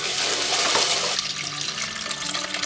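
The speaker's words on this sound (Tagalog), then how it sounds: "pwede na tayo mag-add ng sabaw." Water pours steadily into a pot of fish curry being made as broth, a continuous splashing stream that changes to a fuller, lower rush partway through, close and loud with no talking.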